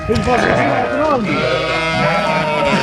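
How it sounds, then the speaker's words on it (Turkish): A black sheep bleats repeatedly, searching for its lamb in a flock on a highland pasture near Darende, Malatya; the wavering cries sound close and loud, overlapping other sheep calls and a voice talking. "Kara koyun da yavrusunu çok aradı ama en sonu buldu."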